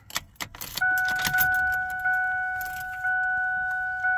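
A V8 Ford Ranger pickup cranks over amid a few clicks and rattles, then fires up and settles into a steady idle with a sustained hum and brief pulses, heard up close without talk.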